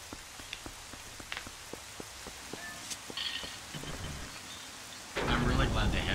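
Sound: rain and thunder in the video game Twilight Princess HD

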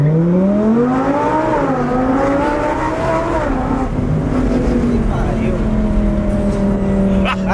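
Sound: car engine accelerating

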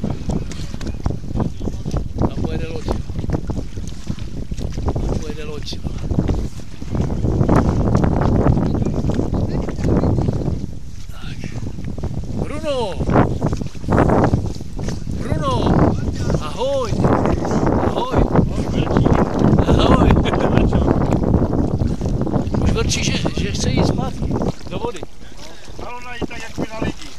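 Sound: boat passing on water

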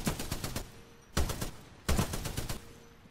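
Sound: LMG machine gun firing in video game Titanfall 2

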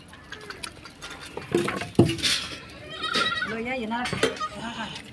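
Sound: goats bleating

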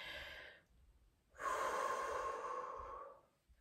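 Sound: deep belly breathing

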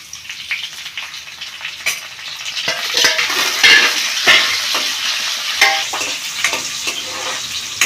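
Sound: chana dal, mustard seeds and cumin frying in hot oil

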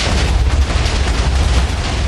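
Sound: explosion from a fired weapon in a Minecraft mod video game

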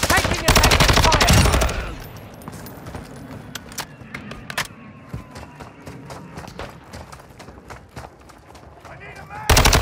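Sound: gunfire in Call of Duty Modern Warfare II DMZ video game

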